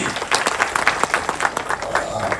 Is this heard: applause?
yes